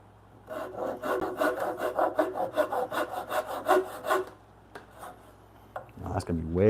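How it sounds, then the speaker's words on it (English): A hand saw cuts through wood near a knot in a workshop. About a dozen steady rasping back-and-forth strokes play up close, then stop, and a few knocks and scrapes follow. "Let's flip it over and cut from the other side."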